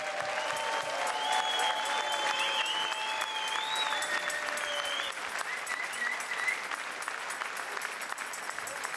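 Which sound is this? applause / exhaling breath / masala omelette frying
applause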